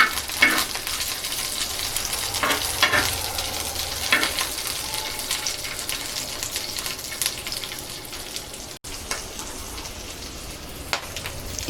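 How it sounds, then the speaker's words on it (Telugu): Onions and capsicum sizzling in a pan while being stirred, a loud continuous frying hiss with scraping stir strokes now and then, close and steady throughout. "ఆనియన్, క్యాప్సికమ్ అనేది జస్ట్ హాఫ్ బాయిల్ అయితే చాలు. లైట్గా అలా ఫ్రై చేసుకున్నట్లుగా హాఫ్ బాయిల్ చేసుకోవాలి."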